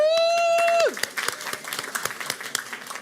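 Clapping and cheering break out in a Baltimore City Public Schools meeting for a staff appointment; a sustained tone cuts off and is followed by scattered sharp claps, loud and close, amid crowd noise.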